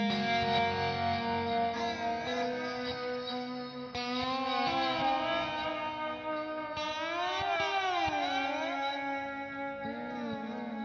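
Electric guitar played through a Crystal Echoes pitch effect, producing shimmering, octave-shifted harmonics with echoing, chorus-like trails; sustained notes and bending pitch sweeps ring out loudly and continuously without any talking.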